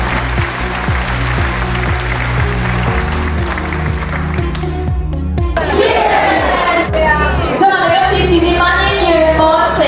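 Applause fills a charity dinner hall as the evening formally opens, steady and dense under background music, later joined by crowd cheering and chatter.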